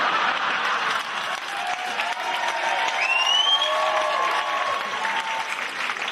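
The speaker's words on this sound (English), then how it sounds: "Some very sensible clapping there by people going..." A comedy club audience applauds steadily at a stand-up show, the clapping dense and sustained throughout with some crowd noise mixed in.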